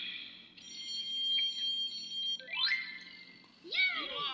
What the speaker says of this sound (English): Press the alarm clock.